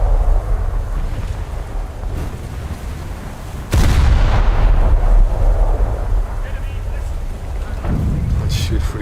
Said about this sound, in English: just keep shooting this Moskva